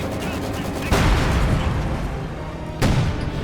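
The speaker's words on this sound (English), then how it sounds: "crew suffering the wrath there of the mortar attack" Mortar shells landing during a Company of Heroes 2 battle, heard as two sharp booming impacts about two seconds apart over a steady rumble of distant gunfire and battlefield noise.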